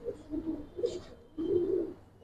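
A female Giribaz pigeon gives a few soft, low coos close by, in short phrases separated by brief pauses.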